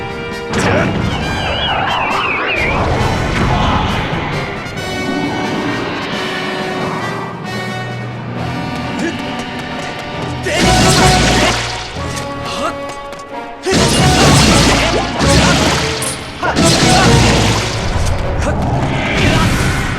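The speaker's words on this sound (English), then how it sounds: "Let me use the bomb." Bombs explode in Zelda: Skyward Sword HD, loud crashing booms bursting through a busy game soundtrack, with several heavy impacts clustered toward the end.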